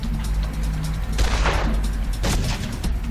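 Sniper gunfire in the Mafia video game Made Man mission, a couple of loud broadband cracks standing out over a dense, continuous battle din with no talk.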